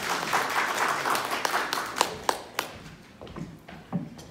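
Audience applause at a ceremony for a beauty-industry policy forum, welcoming the president of the Korea Makeup Beauty Association to the podium; moderate clapping that thins into scattered, separate claps toward the end.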